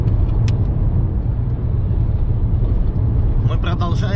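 A car drives at speed along the R350 highway, a loud, close, continuous rumble of tyres and engine with no break, and a few faint squeaks near the end.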